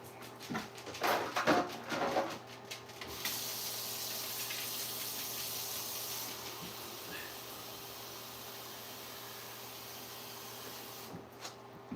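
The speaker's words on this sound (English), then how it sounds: "Put some water in my ice machine, my ice maker." Water is poured into a nugget ice maker in a kitchen, a splashing pour for a few seconds, then a steady, softer hiss of filling that fades near the end.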